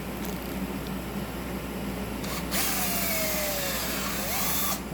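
Power drill boring holes in wood for a handmade Native American temple drone flute, a steady mechanical whir running throughout and swelling louder partway through, with no talk.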